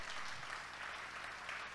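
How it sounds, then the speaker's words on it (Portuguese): Church congregation applauding during a worship service, a continuous wash of many hands clapping at a fairly soft, steady level, heard from some distance. "Pode aplaudir o Senhor"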